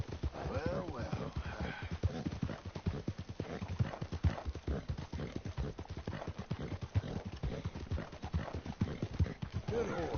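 Horse hooves clip-clopping in Red Dead Redemption II, a close, steady, evenly paced walking rhythm of hoofbeats that runs throughout the clip, with a brief snort or whinny near the start.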